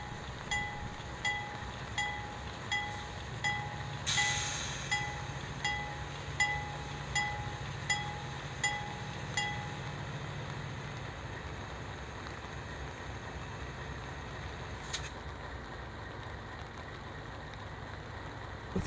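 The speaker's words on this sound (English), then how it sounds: "the two monstrous Dash 8s pull through CP Rencombe on very old Pennsylvania Railroad rails, still connected by jointed rail" A circus train hauled by two Dash 8 locomotives rolls over old jointed Pennsylvania Railroad rails, giving a faint, steady clickety-clack of wheels over the joints with a low rumble, heard from a distance.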